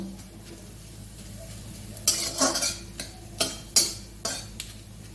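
Ginger and whole spices fry in a pan as a tempering for dal, with a low continuous sizzle under several sharp scraping stirs of a utensil against the pan, close and fairly loud.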